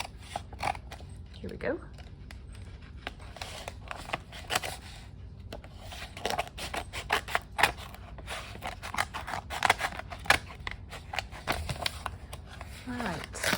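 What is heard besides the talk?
cutting open a mail package with scissors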